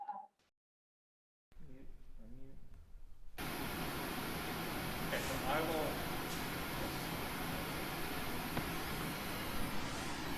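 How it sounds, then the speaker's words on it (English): Pink noise pours from coupled point-source speaker arrays as a loud, steady broadband hiss that fills the space after a brief silence and some faint talk. "We're going to turn on the pink noise"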